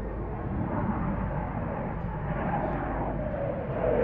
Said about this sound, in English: powering back up to Snegma M88 after burning turbofans